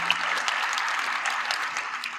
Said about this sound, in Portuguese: palmas a esses irmãos que aqui vieram